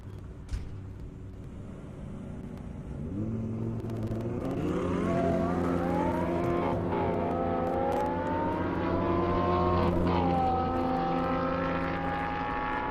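A Mercedes E63S and an Audi R8 drag race on an airport airstrip, engines rising from a distant rumble into a loud, climbing roar that holds strong as the cars accelerate.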